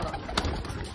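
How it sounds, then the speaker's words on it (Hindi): Pigeons of a kept breed coo softly in a coop with a low, throaty murmur, one brief sharper sound standing out against a steady background hum. "हमारे पास एक ये नस्ल के कबूतर हैं"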